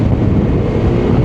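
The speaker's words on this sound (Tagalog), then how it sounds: "Lakas ng hangin." Strong storm wind roaring across the microphone during a motorcycle ride along a mountain highway, a loud, steady low rumble with no break.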